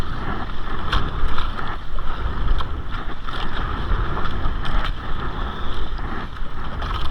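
A sudden strong wind roars over a small fishing boat at sea during lobster fishing, a loud continuous rush with gusty buffeting and water noise, with no voices.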